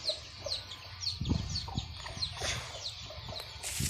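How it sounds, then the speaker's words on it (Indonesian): A flock of chickens clucks and chirps in quick, overlapping calls at close range on a farm. The sound is busy and uneven, with no talking. "Ini aja banyak ayam."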